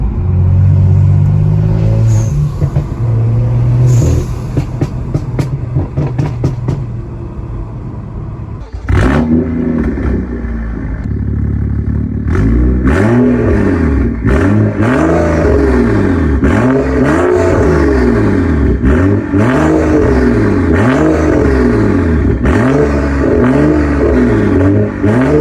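Tuned BMW engine revving loudly and close, with repeated rising and falling sweeps of pitch as the throttle is blipped, over a steady idle rumble.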